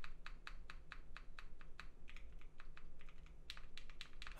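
Keys clack in quick irregular bursts on a Vertex Angle prototype mechanical keyboard, including the backspace key, crisp close taps over a low hum, fairly quiet.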